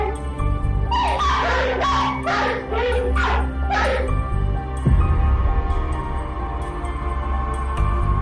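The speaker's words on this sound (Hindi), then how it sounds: "इस वीडियो में दो कुत्ते हैं जो किसी चीज को देखकर भौंक रहे हैं" Two dogs bark together in a rapid burst of loud, sharp barks picked up by a CCTV camera, then fall silent as a heavy thump and a faint whimper follow when one dog is attacked.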